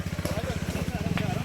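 A motorcycle stuck on a steep trekking path near Kothaligad fort revs with a rough, pulsing engine note close by, with voices talking over it.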